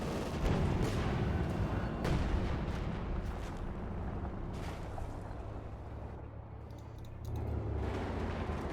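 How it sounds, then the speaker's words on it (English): A Panzer artillery barrage in Company of Heroes 2 pounds away as a dense string of heavy, rumbling explosions. The blasts come in overlapping waves and keep the battlefield noise loud and continuous for several seconds. "Got another Panzer barrage here from Fire and Terror."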